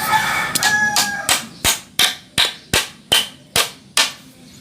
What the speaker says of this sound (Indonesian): Kita paku nih.